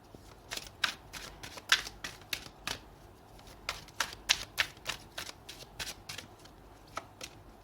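Close, crisp riffling and snapping of an oracle card deck being shuffled by hand, coming in quick irregular bursts of sharp clicks for several seconds, with no talking.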